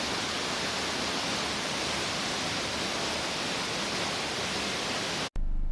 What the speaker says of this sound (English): This waterfall is just outside of the first tunnel.